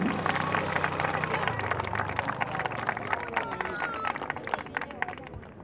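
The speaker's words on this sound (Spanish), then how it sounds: "otro aplauso para la policía" A crowd watching a volunteer firefighters' emergency drill claps for the arriving police, quick sharp claps over a bed of chatter and a voice talking, with a tonal siren-like whine underneath early on.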